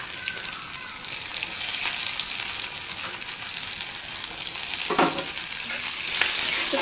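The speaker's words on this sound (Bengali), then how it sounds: "পেঁয়াজটা হালকাভাবে ভেজে নেবো আগে" Onion fries in oil in a wok for spicy egg pasta, a loud, steady sizzle with stirring scrapes that swells louder toward the end, and no one speaks.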